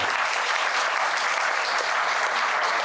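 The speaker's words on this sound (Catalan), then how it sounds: "Un aplaudiment per la gràcia." Dense, steady applause from a conference audience at an international social economy event fills the whole stretch, loud and even, a continuous wash of many hands with no talking over it.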